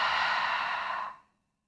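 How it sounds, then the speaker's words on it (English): A long, audible exhale out through the mouth during a restful yoga practice, a single breathy sigh that fades out into silence after about a second. "Take a breath in through the nose. Exhale out through the mouth."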